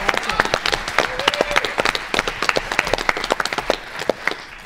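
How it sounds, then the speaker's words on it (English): A quiz show audience applauds its teams, dense overlapping claps with sharp individual hits, fairly close and steady throughout, with a little voice underneath. "Let's give our teams a big round of applause"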